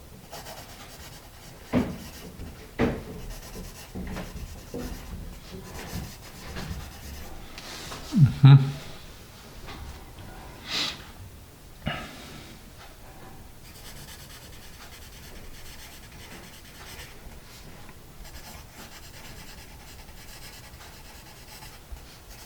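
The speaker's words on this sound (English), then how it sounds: "Quiet pencil." An Apsara Extra Dark pencil writes on paper, soft scratchy strokes at close range with a few sharper taps and rubs scattered through a mostly quiet stretch.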